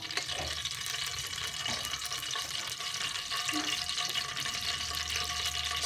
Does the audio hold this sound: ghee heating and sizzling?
yes